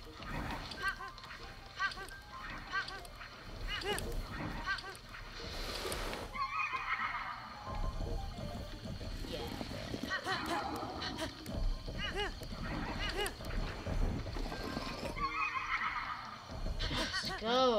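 A horse in The Legend of Zelda: Breath of the Wild whinnies loudly several times between stretches of hoofbeats, with players chatting over the sounds.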